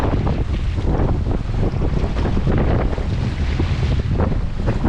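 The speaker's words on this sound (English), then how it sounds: "it's blowing consistently above 20 knots, 25 knots" Strong wind above 20 knots roars across a small sailing boat at sea, a loud, constant buffeting rush with heavy microphone wind noise and a hint of water beneath, no voices.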